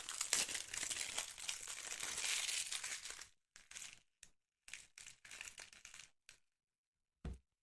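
A plastic wrapper on a Magic: The Gathering Innistrad intro pack crinkles and tears, first a long continuous rustle, then several short separate crinkles with quiet gaps, close and alone.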